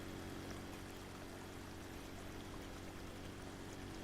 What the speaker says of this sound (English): look at that water flow go.